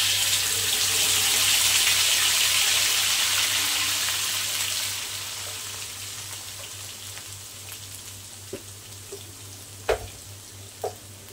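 Loud, steady hiss of blended chili sambal paste frying in hot oil, gradually settling down, with a few sharp clinks of a utensil near the end.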